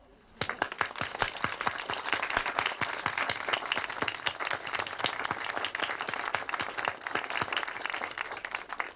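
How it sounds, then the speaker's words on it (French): Audience applause breaks out after a brief quiet start and carries on steadily, a dense, loud patter of many hands clapping close by for the full length, with no talk over it. "Louis qui mérite un applaudissement"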